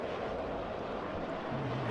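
Steady low engine drone of a Corsair fighter plane in a World War II video game, a continuous broadband hum held at even loudness throughout, with no voices.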